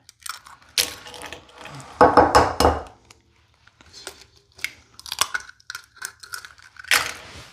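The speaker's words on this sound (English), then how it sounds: "Now we're just gonna crack in 2 eggs after that's been well combined." Two eggs cracked into a bowl of whipped cookie dough for berry crunch cookies, heard as a few sharp taps and wet cracks close by, with quieter bowl clinks in between and no talking.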